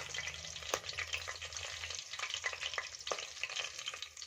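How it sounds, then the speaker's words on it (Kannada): Masala spices frying in a pan for kushka rice, a soft steady sizzle broken by occasional sharp scrapes and taps of a spoon, fairly quiet with no voices. "ಈಗ ಮಸಾಲೆ 1-2 ಸೆಕೆಂಡು ಫ್ರೈ ಆದರೆ ಸಾಕಾಗುತ್ತೆ"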